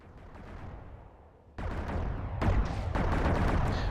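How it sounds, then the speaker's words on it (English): Weapons fire in the MechWarrior Living Legends game on a desert map: several sharp, booming shots and Gauss rifle blasts land in quick succession, loud and close, with no voices. "Gunfire. Yeah, we have shots fired."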